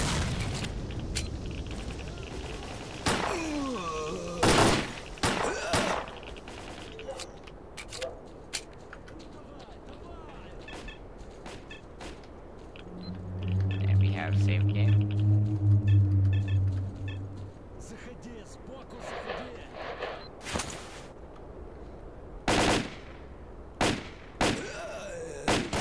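Gunfire in the video game S.T.A.L.K.E.R. with AKs and Makarovs, scattered sharp shots and thuds spread through the stretch, plus a low droning rumble near the middle, with someone talking over much of it.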